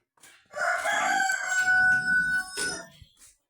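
Rhode Island Red chickens in a backyard flock, a loud, close rooster-style crow rising and holding for a couple of seconds, with a faint cluck before it.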